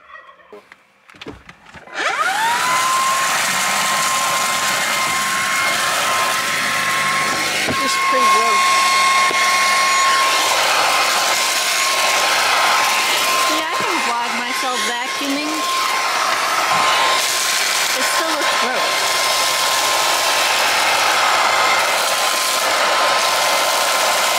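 A loud, steady vacuum motor whine drones nonstop inside a car, with a high tonal hum on top and some faint voices underneath.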